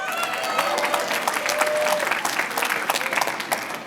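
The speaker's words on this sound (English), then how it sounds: "So give yourselves a round of applause." An audience claps together at a reception for Asian-Pacific heritage hosted by the New York City mayor, a dense, even burst of applause that stays loud throughout with faint voices mixed in.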